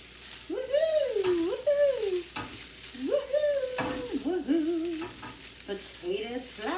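Grated potato hash browns being tossed and frying in a hot pan, with a steady sizzle and stirring scrapes under a melodic humming or singing voice that rises and falls throughout.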